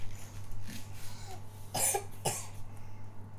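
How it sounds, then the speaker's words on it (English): A person gives a few short coughs close to the microphone, spaced apart against a quiet room with a low steady hum. "I am coughing."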